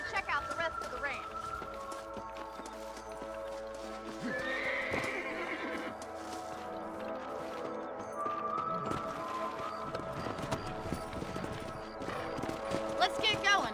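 Horse hooves clip-clop at a gallop in the Red Dead Redemption game, with whinnies and neighs rising over a steady rhythm of hoofbeats and background game sound, while a voice talks intermittently.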